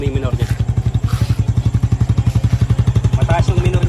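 A Honda XRM 110 motorcycle idles at a raised, fast rpm, its steady rapid thumping pulses loud and close throughout, with a voice speaking briefly over it near the start and end.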